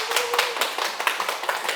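An audience at a Sunday lecture breaks into rapid, dense hand clapping, loud and close, with sharp overlapping claps running through the whole short burst.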